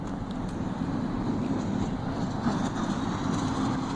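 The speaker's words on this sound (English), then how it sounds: "See the train?" A real train rolls past a park in a steady, continuous rumble of wheels and cars on the rails, moderately loud and unbroken for the whole stretch, with no talking.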